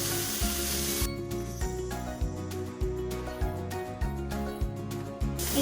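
Diced onion and butter stir-frying in a pan for Japanese omurice: a steady, close sizzle that starts about a second in and keeps hissing under a looping, rhythmic low backing track.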